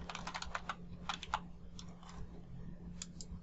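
Quick bursts of typing on a computer keyboard to sign in, light clattering keystrokes in short clusters with pauses, over a low steady electrical hum.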